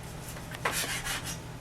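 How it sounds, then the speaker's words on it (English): A very sharp knife slices pork belly into thin strips, making a soft scraping, rasping cut or two over a board, close but quiet against a low background hum. "with a very sharp knife, I want you to go and slice this pork belly up into thin strips"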